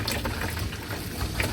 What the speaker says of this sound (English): Just waiting for water to come through.